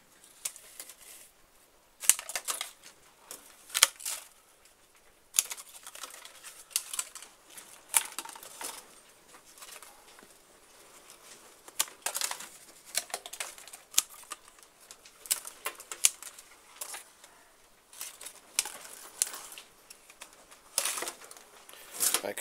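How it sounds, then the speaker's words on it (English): Spent Sarracenia pitcher plant pitchers being trimmed off, heard as scattered crisp snips and rustles of stems and dry leaves, close and fairly quiet, arriving in irregular bursts with short pauses between them. "So we'll trim all of those off."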